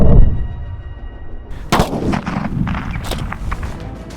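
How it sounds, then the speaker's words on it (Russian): A powerful firecracker detonates beside a keyboard, one sharp loud blast followed by a scatter of crackling pops and debris clatter, heard close up with no talk. "сейчас будет очень мощный взрыв"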